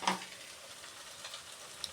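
Ghee sizzling as it goes on top of a pot of egg pulao, a steady soft crackle and hiss close by, opening with a brighter burst and then settling, with no voices.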